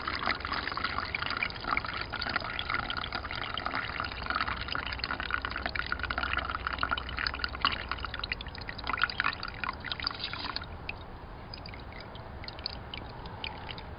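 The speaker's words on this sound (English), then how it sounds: "you're just going to try to pour it and keep all your chips in there" Green acidic copper solution is poured from a container while computer chips are held back inside, a continuous close liquid pour with trickling and dripping that thins toward the end.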